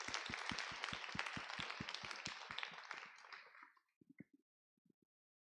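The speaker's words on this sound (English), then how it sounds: "Let's give him another round of applause." Applause at a Board of Education meeting, a rhythmic group clap with evenly spaced beats that thins and fades out, leaving a few scattered claps and faint taps at the end.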